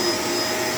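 A Shark LA702 bagless vacuum cleaner runs with a steady, loud motor whine and airy rush, unbroken over a short stretch with no talking.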